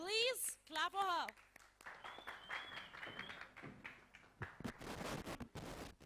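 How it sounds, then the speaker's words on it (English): Indoor audience applause at a short film screening breaks out after a few seconds of a host talking over a microphone, a scattered burst of clapping rising and continuing in the room. "Just please clap for her"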